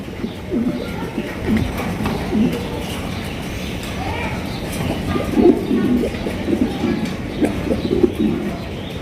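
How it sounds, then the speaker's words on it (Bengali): Indonesian pigeons coo in soft, repeated low throaty bursts, several overlapping at a moderate distance, over a steady murmur of background noise. "এখানে রয়েছে আরও একজন শৌখিন কবুতর"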